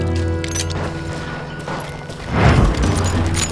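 Gunfire in the Western shooter Call of Juarez: Gunslinger, with a loud burst of shots and crashing impacts near the middle, over a steady game soundtrack with continuous low tones.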